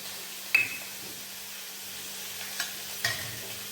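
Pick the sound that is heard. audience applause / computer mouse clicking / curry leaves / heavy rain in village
curry leaves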